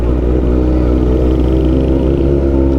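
A motorcycle fitted with an SC Project MotoGP exhaust idles and revs close by, a loud, deep, steady engine rumble with a throbbing low pulse and no talking.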